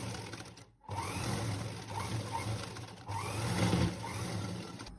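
A sewing machine stitches piping onto a cross piece of a pleated three-piece nighty, its motor whirring in close, steady runs that break briefly near the start and pick up again.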